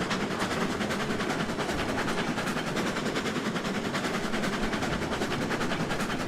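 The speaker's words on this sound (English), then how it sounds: "we'll see how the engine performs going up the hill with a fully loaded train of 6 cars of planks and beams" A steam locomotive in the Railroads Online game hauls six loaded cars of planks and beams uphill, a dense continuous rumble with fast rhythmic chuffing and clatter throughout, steady and loud.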